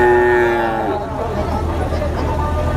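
A cow moos loudly and up close at a crowded cattle market where heifers are being sold, a long harmonic call lasting about a second before it fades into the steady low rumble and murmur of the pens.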